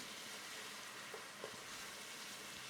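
Shallot paste fries in a pot with curry leaves for a South Indian mutton curry, a faint steady sizzle with a couple of soft stirring knocks.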